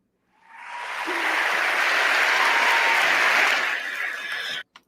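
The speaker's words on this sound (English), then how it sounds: "you guys hear all the applause and everything?" A burst of applause from a large crowd swells in quickly, holds as a dense, steady clapping roar for about three seconds, then cuts off abruptly.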